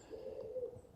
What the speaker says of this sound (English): And you can hear that call in the background? So that's a woodland pigeon.